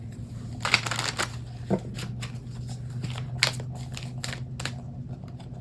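An Archangel Oracle card deck being shuffled by hand, close up and fairly quiet, with several quick riffling bursts and soft flicks of the cards.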